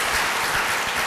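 An audience at a Social Business Day event claps for Asian University for Women students, a brief, dense burst of applause with no talking.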